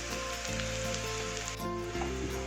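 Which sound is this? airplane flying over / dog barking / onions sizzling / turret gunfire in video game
onions sizzling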